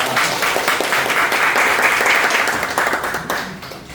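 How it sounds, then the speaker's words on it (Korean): Applause from the audience at a small business CEO forum held in a restaurant, a steady round of many hands clapping at moderate loudness that thins out toward the end. "박수 한번 좀"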